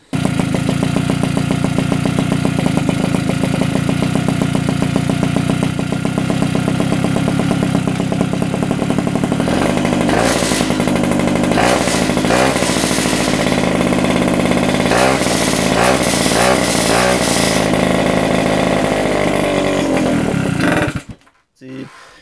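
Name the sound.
rebuilt mobcross moped engine started and running, Doppler exhaust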